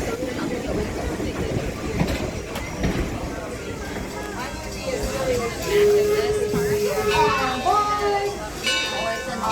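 Greenfield Village's heritage train rolls along its rails with a steady rumble and hiss, and a sustained whistle-like tone comes in partway through, while people talk over the train noise.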